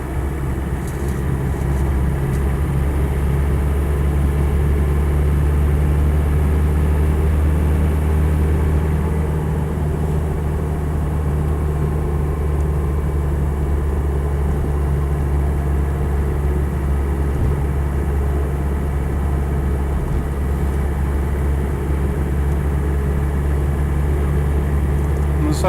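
Land Rover 90 with a 2.5 litre turbo diesel engine driving on the road, a steady loud low drone and rumble from inside the cabin holding even for the whole stretch.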